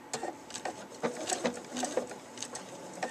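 A Pfaff Expression 4.0 sewing machine runs a hand-quilt stitch through a quilt, giving a close, steady patter of quick needle strokes with light mechanical clicks, and no talking.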